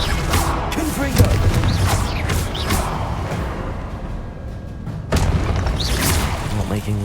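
The Confringo spell in Hogwarts Legacy gives booming explosive blasts and whooshes in repeated bursts over steady game combat noise, with a voice talking over the action.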